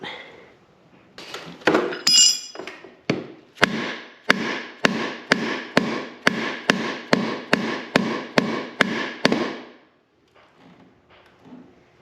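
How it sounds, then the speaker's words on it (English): Repeated metal tapping on the seized front axle of a Honda Big Red ATC, a steady series of about a dozen sharp, evenly spaced clanks after a few irregular knocks, close and loud, then quiet handling noise. "Alright, this axle's not budging, so I tried tapping it, and this isn't turning."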